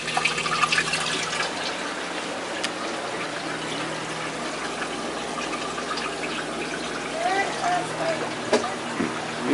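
Several Tetra aquarium pumps run beside a tall tank, giving a steady, faint hum under continuous trickling, flowing water, with occasional small splashes.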